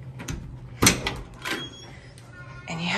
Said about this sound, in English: Okay, so now we open the door.